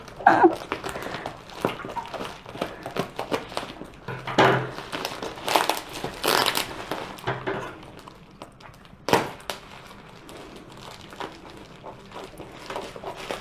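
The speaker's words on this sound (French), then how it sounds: "c'est assez compliqué à ouvrir parce que c'est bien emballé. Il y a du scotch de partout" Close, intermittent crinkling and crumpling of wrapping, with sharp rips and rustles as tightly taped packaging is pulled apart, separated by quieter pauses.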